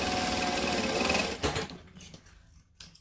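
A sewing machine stitches the gusset of a bag with a loud, fast, steady mechanical whir for about a second and a half, then stops, followed by quieter handling noises of the fabric.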